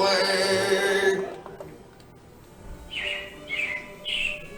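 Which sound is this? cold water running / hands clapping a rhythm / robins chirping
robins chirping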